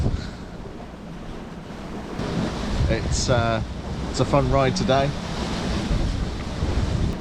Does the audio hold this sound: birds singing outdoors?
no